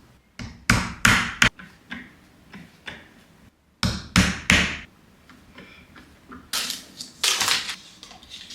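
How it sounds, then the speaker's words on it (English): Sharp hammer strikes on the tip of a drill bit land in short clustered bursts, loud and close, with brief pauses between each group of blows. "if you like hammer the tip before you start drilling, it makes it so much easier"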